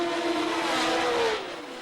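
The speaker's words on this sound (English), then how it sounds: "As the field of 16 cars howled away from the start and up the hill towards Casino Square, Jackie Stewart was in the lead." A field of sixteen 1970 Formula One cars howls away from the start at Monaco, a dense high-pitched engine wail that rises and then drops in pitch as the pack pulls away, loud and continuous.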